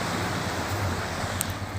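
Ocean waves wash steadily onto a beach in Lampung, a continuous broadband surf roar with wind noise buffeting the microphone throughout, no voices.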